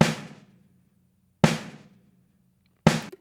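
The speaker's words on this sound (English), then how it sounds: "here is the snare drum sound" Three hits of a raw, unprocessed snare drum sample, evenly spaced about a second and a half apart, each a loud crisp crack with a bright rattling decay that fades out before the next.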